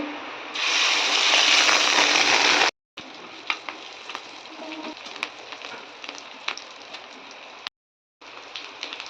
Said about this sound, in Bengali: মাছের ডিমটা মেখেছি পেঁয়াজ আর লঙ্কা দিয়ে। তো এটা আবার দিয়ে দেব তেলের মধ্যে